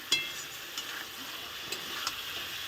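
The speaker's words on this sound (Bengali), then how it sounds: "মাছটাও এটার সঙ্গে কষিয়ে নেব" Catla fish frying in hot oil with ground spices and coriander leaves, a steady close sizzle with occasional stirring clicks in the pan.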